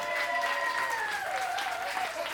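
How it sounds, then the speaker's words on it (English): Audience applause at a comedy show, a steady wash of many hands clapping at moderate volume, with a faint tone sliding downward beneath it. "Clap for her."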